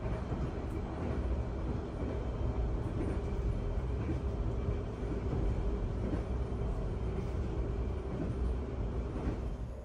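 A steady rolling rumble from inside the Ijen Express passenger train, a continuous moderately loud drone of wheels and carriage noise with faint rhythmic clatter, no voices.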